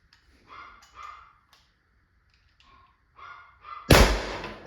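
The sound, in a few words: dog barking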